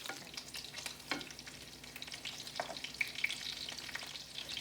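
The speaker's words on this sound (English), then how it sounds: "So our chicken is sizzling up" Chicken frying in a pan gives a steady, close sizzle with spatula scrapes and stirring clatter over it; no one speaks.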